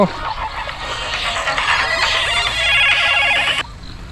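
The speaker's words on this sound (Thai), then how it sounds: "โทรศัพท์เข้าครับผม" An incoming call on a mobile phone, with a loud, buzzy ringtone that rings steadily for about three and a half seconds and then stops suddenly.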